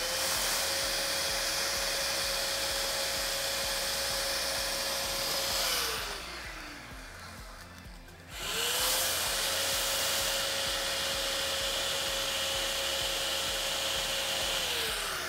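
An electric balloon inflator fills foil balloons with a loud, steady blowing hum that dips briefly in the middle, then returns at full strength; no one speaks.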